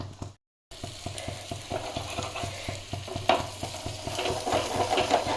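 A large omelette, cut into four pieces for turning, fries on a small tava with a continuous sizzle. Steady, rapid ticking strokes run underneath after a brief silent gap near the start.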